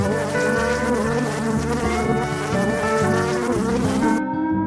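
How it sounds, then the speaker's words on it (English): A bee buzzes loudly and continuously at close range, a dense steady drone that cuts off abruptly just before the end. "Bee."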